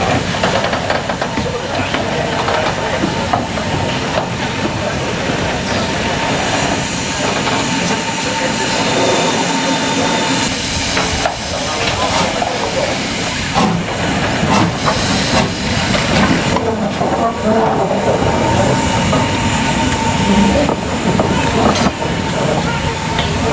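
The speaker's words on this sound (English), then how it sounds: "I don't know what it is about steam engines, but could sit and watch them all day long." A steam locomotive on the Keighley & Worth Valley Railway hisses and chuffs continuously at close range, with bursts of steam and mechanical clanking over a steady roar.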